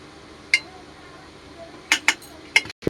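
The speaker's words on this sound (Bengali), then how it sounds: "হাঁড়িটা ধরে ভাতটা আমি একটু ঝাঁকিয়ে দেবো, ঝেঁকে নিয়েছি" A cooking pot of rice for mixed pulao, seasoned with ghee, is gripped and shaken, giving a handful of sharp metallic clinks and taps close by, with quiet gaps between them.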